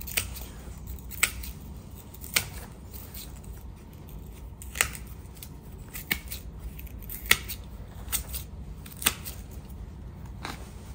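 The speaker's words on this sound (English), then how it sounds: "if you cut the thick roots off, it will encourage fine roots to grow" Scissors snip through thick beech tree roots during root pruning, giving about nine sharp, crisp cuts spaced roughly a second apart over a quiet background.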